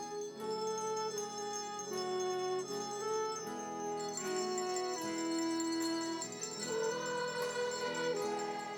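Children ring color-coded handbells in a classroom, sustained bell chords shifting every second or so over a continuous melody line, fairly quiet and steady with no talking.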